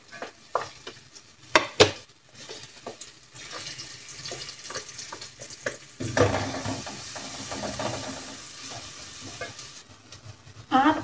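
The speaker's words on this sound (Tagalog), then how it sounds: "Ayun naman ang panggigisa natin sa ating lulutuin." Garlic and onion sauté in cooking oil in a pan, with a crackling hiss broken by stirring clatter and a couple of sharp knocks, growing denser and louder partway through, close with no talk.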